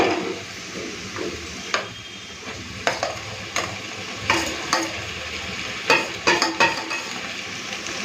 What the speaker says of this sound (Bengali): পেঁয়াজটাকে লাল করে ভেজে নিয়েছি, এরপরে কেটে রাখা কুঁদরিটা দিয়ে দেবো।